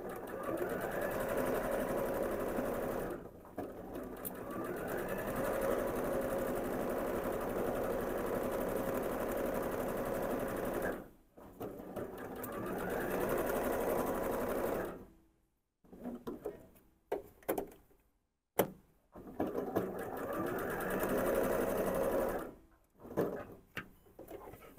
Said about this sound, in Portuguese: Vou seguir a estampa e vou costurar toda a borda do laço